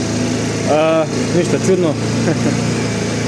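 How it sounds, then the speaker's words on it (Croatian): A repaired Chinese motorcycle engine idles steadily after starting, a constant close hum while someone speaks briefly over it. "motor je upalio"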